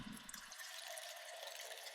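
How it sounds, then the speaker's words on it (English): Processed water samples form a quiet percussive atmosphere, a faint airy wash of drips and trickling with soft low thumps fading early, no voices. "it's just some water samples with some other like almost percussive effects that I've got some processing on"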